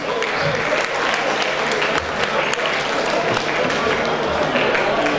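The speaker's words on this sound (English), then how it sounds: "Please put your hands together for Ghanaians." Sustained applause from a large crowd, dense steady clapping with some cheering mixed in, loud and continuous throughout.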